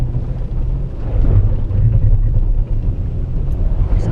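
A Nissan Xterra on Kumho AT51 all-terrain tires works off-road, a heavy engine rumble and drivetrain drone churning steadily from inside the vehicle with rough surging as the wheels spin.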